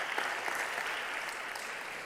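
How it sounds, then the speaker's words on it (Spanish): Church congregation applauding during a Spanish-language sermon, a dense, steady wash of many hands clapping at a moderate distance, continuous and even throughout with no talk over it. "Alábele y denle una gloria y un aplauso a nuestro Dios."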